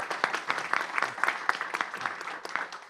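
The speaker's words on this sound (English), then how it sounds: "Let's give him a warm applause" Warm applause from an audience at a county board of education meeting, dense rapid clapping holding steady for a few seconds.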